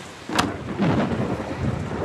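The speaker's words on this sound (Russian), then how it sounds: "Кажется, правда, гроза." A thunderstorm rumbles with a sharp crack of thunder followed by a heavy, rolling roar and a steady wash of rain, loud and close with no voices.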